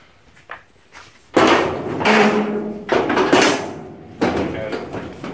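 A 1966 Ford Bronco tailgate being shut and adjusted after a one-washer latch fix, giving several sharp metallic clunks and thuds close by, spread over a few seconds with quieter rattling handling between them.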